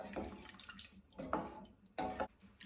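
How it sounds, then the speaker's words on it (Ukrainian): Water pouring into a pot of zucchini cream soup on a kitchen stove, with several short splashing bursts close by, no talking. "І додаю сюди пів літри води."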